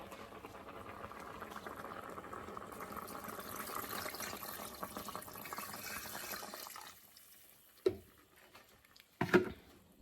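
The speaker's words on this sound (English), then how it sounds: "we're gonna add some more water" Water pours into a pot of homemade chicken noodle soup with a steady rushing splash for several seconds, then stops, followed by a few faint clunks of the pot. Quiet and close, with no talking.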